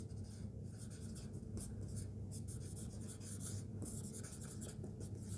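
Pen scratching out an equation on paper, soft continuous rubbing strokes in short bursts, faint and close over low background hum.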